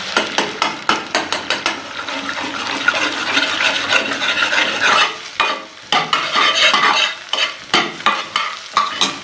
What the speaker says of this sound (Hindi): अब इसके अंदर अंडे डालेंगे और इसे तेज तेज हिलाते जाएंगे